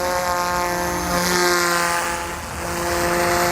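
Goosky S2 Max RC helicopter at 68% throttle, a loud steady high-pitched motor and rotor whine with strong tonal harmonics, swelling slightly as it moves about nearby.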